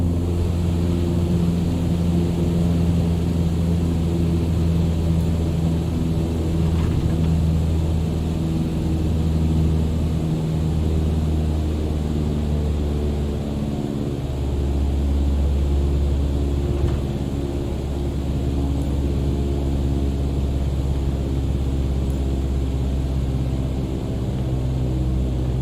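Low, steady propeller-engine drone of a Cessna 152 throttled back to about 1800 RPM in a flight simulator, continuous and even with no talk, a faint ripple in the hum throughout.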